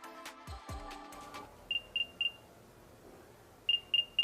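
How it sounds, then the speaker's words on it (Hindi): An AirPods Gen 2 charging case emitting its find-my chime, short bright beeps in quick groups of three, repeated after a pause, clear against a quiet room following some brief handling noise. "जब आप साउंड प्ले करते हो तो ये इसके अंदर से साउंड आती है, लाइक ऐसे रिंगटोन टाइप का बजने लगता है"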